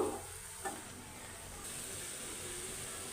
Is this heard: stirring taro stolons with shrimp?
yes